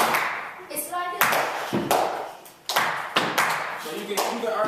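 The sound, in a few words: hand clapping and foot stomping rhythm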